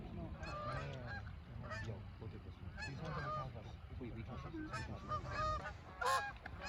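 Geese honk repeatedly while flying over a golf course during an early-season hunt, with many overlapping calls from a large flock at mid distance and one louder, nearer honk near the end, over low rumbling background.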